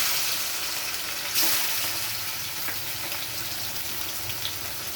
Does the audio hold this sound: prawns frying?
yes